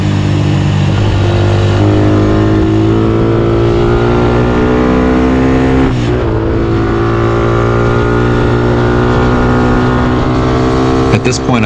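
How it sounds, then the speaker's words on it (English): A highly modified Motorstar Z200 motorcycle with two valves and push rods racing a Sniper 150: loud, sustained engine drone with rising harmonic pitch as it accelerates, heard up close and continuous for the whole stretch. "the bike that I'm using is a highly modified Motorstar Z200 with two valves and push rods"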